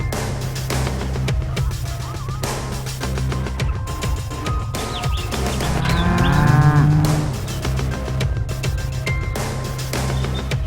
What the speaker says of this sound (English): This is a Piebald cow.